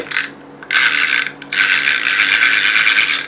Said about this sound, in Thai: คลิกเสียงเนี่ยค่อนข้างเบานะตัวนี้